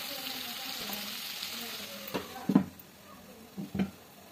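Vegetables are stirred in a pan over a faint, low sizzle, with a few distinct scraping clacks of the spoon toward the end, quiet and close with no voices.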